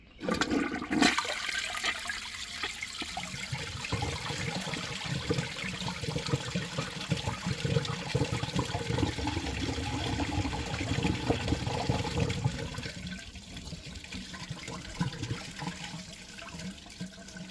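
A 1997 American Standard Savona one-piece toilet flushing and refilling, with a sudden rush of water followed by a long, steady swirling and trickling refill, moderately quiet and close, with no voices.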